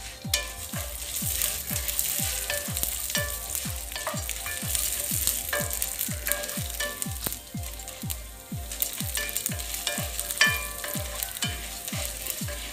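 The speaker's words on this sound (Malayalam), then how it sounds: "നന്നായിട്ടൊന്ന് മൂപ്പിച്ചെടുക്കാം." Urad dal roasting in hot oil for a mango rice tempering, a busy steady sizzle with rapid crackling pops running throughout, close and fairly loud with no talk.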